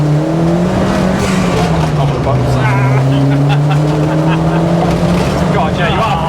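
Ford Fiesta Mk4 fitted with an ST180 turbo engine, close loud engine note rising and falling with a throttle blip, the drone sustained throughout with a voice speaking over it.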